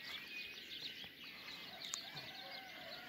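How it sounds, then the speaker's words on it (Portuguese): Birds sing and chirp faintly in a backyard at dawn on Graciosa Island, with several high, overlapping calls over quiet outdoor ambience and a soft clucking note among them. "ouvir aqui o som dos pássaros"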